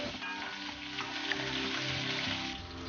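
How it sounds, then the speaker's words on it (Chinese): Sichuan peppercorns, dried chilies, ginger and garlic sizzle steadily in hot oil in a wok, a close, continuous crackling fry with light stirring and no talking. "锅中来少许油，撒上一点花椒、干海椒、姜蒜贼"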